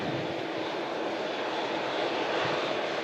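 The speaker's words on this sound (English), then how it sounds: "TUI Dreamliner going a little bit slow there on the taxiway." A TUI Boeing Dreamliner taxis slowly along an airport taxiway, a steady broad engine hum and hiss holding even and fairly distant throughout, with no voices.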